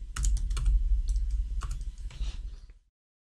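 Rapid clicking keystrokes on a computer keyboard, a close, uneven flurry of typing lasting under three seconds before stopping abruptly into silence.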